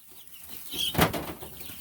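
A hen named Kylo Hen clucks briefly and quietly near the microphone, with light rustling around it.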